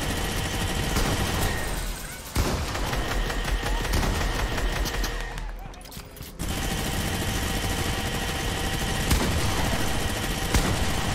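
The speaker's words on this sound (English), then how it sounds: "I'm gonna start shooting these things." Continuous rapid gunfire from shooting in the Fortnite video game, dense bursts running almost the whole time with a brief lull near the middle, loud and close with no talking.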